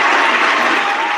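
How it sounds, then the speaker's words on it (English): A burst of applause played as a sound effect, a loud, steady wash of clapping that fills the short moment with no talk over it. "let's just pull up that applause sound effect again"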